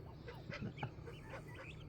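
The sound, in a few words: pet turkey vocalizing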